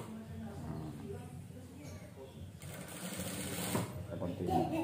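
A sewing machine runs steadily while stitching a circle around the first seam of an A-line gamis skirt with an elastic waistband. The motor's hum is close and continuous, with a person talking over it.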